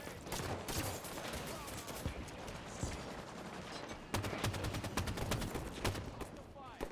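Heavy gunfire from the video game Halo 5 rattles through a continuous firefight, with dense volleys and sharp repeated shots over a busy background, and a voice is faintly present.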